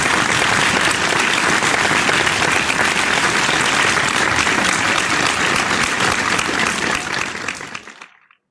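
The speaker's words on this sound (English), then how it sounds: "A virtual round of applause to Mr. Bogart Boggs Pakigan." Dense, sustained applause from a crowd welcoming a resource speaker at an online computing-careers talk, steady and loud for about seven seconds before tapering off quickly to silence.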